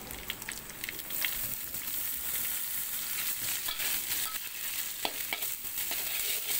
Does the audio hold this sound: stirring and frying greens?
yes